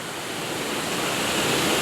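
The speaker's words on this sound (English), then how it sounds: "you've got the waterfall coming over the falls" A waterfall pours over the falls in a continuous, loud, broadband rush. The roar stays steady and close, with no voices or other sounds.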